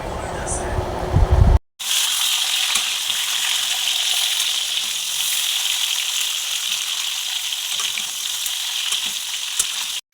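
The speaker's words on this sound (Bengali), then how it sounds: "তেলটা পুরো গরম করে নিয়েছে এখন আমগুলো দিয়ে দিচ্ছে মা ভেজে নেবে ভালো মতো করে" Raw green mango pieces frying in fully heated oil for a homemade pickle, a dense steady sizzle that bursts in after a short silence and continues loud and close for several seconds.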